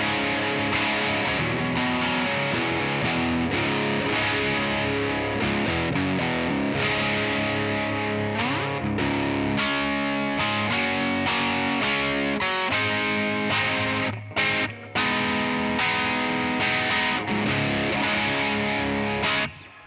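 Electric guitar plays through a Boss MS3 into DT25 and JCM 810 amps, with thick, saturated overdriven chords and riffs held loud and continuous, broken briefly by a few short chopped stops near the end.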